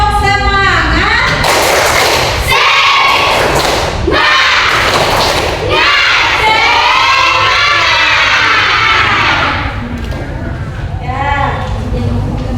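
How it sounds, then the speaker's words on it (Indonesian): A school class claps together loudly in a rhythmic 'tepuk semangat' spirit clap, heavy repeated group claps mixed with chanting voices, close and energetic. "tepuk semangat dulu ya."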